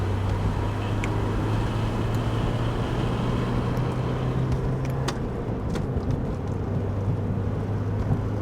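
A Porsche with no working clutch driving on a highway, with a steady loud engine drone and road noise throughout, the engine note shifting briefly as gears change.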